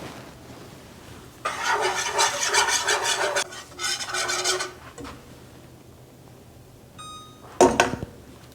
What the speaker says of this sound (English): I'm going to whisk constantly for the 3 minutes because we don't want anything to burn